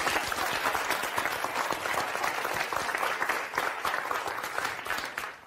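Sustained studio audience applause from a talk-show crowd, a dense steady wash of many hands clapping at close range, loud throughout and fading slightly at the end.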